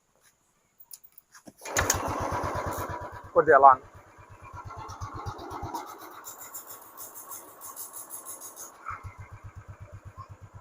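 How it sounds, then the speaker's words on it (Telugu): A Royal Enfield Bullet Classic 350 with a reworked engine is started up close after a few clicks, then settles into a steady, rhythmic single-cylinder thump at idle while someone talks over it; the beat drops briefly before picking up again. "ఒకసారి దగ్గరకు వచ్చి స్టార్ట్ చేద్దాం"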